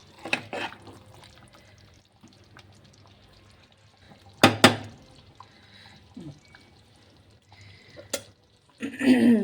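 Coriander chicken curry with a sprinkle of garam masala is stirred in a pan, giving a few scattered scraping and stirring bursts separated by quiet stretches, with a louder rustle near the end.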